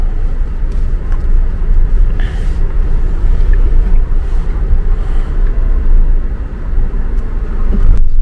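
Heavy street traffic in Chinatown, a steady loud rumble of engines and road noise with wind buffeting the microphone, no voices.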